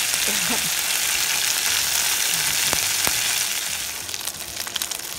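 Sardines fry in a pan with a steady, close sizzle and crackle, broken by a couple of sharp taps before the sizzle thins out near the end.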